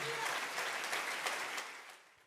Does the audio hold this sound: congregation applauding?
yes